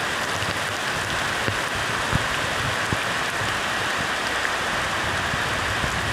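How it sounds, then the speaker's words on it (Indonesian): Heavy rain pours steadily on open rice fields, a dense, loud, unbroken hiss with scattered nearby drops and no voices. "Hujannya tambah gede ah."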